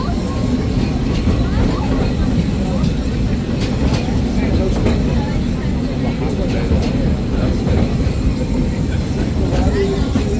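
Steady rumble and rattle of a railroad train ride at Magic Kingdom, a continuous loud clatter of wheels and cars with faint voices under the noise.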